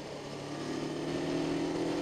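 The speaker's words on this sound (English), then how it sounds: "That's full throttle, baby." Kawasaki Ninja 250 motorcycle held at full throttle, a steady, loud engine drone with a sustained tonal whine that climbs slightly in pitch, close and continuous with no speech.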